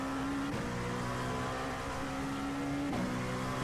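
LMP2-class prototype race car engine in an IMSA sim racing game, droning steadily at high revs with a couple of brief gear-shift dips, loud and continuous with no talk.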